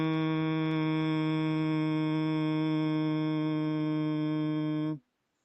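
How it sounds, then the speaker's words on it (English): A Bhramari Pranayam breathing exhalation is voiced as one long, steady nasal hum held evenly for about five seconds, close and clean, then cut off abruptly into silence. "breathing out, make a humming sound like this"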